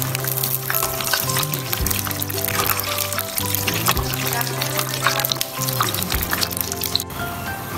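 Fried laungcharay dough snacks are dropped into a bowl of water to soak in a home kitchen, giving splashing, pouring and crackling sounds close by over steady background music throughout.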